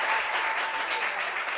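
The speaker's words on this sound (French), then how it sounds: "Je veux qu'on applaudisse quand même pour son papa." Studio audience applauding in a broad, even burst of many hands clapping, sustained and fairly close with no talk over it.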